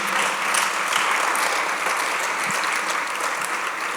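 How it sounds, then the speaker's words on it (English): Steady applause from the audience at an International Women's Day event fills the space, a continuous dense patter of many hands held at an even level throughout. "And another round of applause, please."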